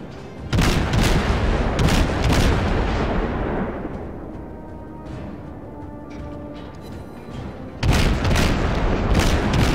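Heavy naval cannon booms in the game World of Warships fire in rapid bursts, loud and close, with a rumbling, echoing tail between volleys before another salvo erupts.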